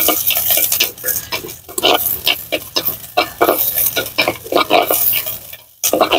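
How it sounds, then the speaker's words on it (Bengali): Onions hitting hot oil in a pan, a loud, close, crackling sizzle broken by repeated scraping and stirring strokes and metallic clinks of a spatula against the pan. "এখন আমি দিয়ে দিচ্ছি পরিমাণ মতো তেল। দিয়ে দিচ্ছি আমি পেঁয়াজ।"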